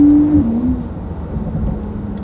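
A Porsche 992 Carrera fitted with a Valvetronic Designs titanium exhaust holds a loud, deep, steady engine note, with a brief higher tone at the start that drops away, then a sustained low rumble close by with no talking.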